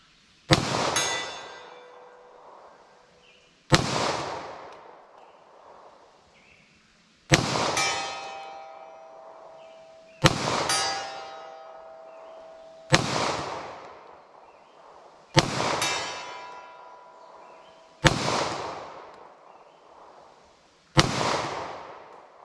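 Eight loud .40 S&W pistol shots ring out at an outdoor range, each a sharp crack followed by a ringing metallic clang from a steel target, spaced evenly about three seconds apart with long decaying tails.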